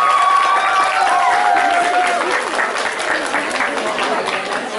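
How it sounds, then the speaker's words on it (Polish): Loud, continuous applause from an audience at a children's song festival in Łąkta Dolna, a crowd clapping evenly throughout with faint voices and a tonal note drifting underneath. "bardzo proszę o duże brawa."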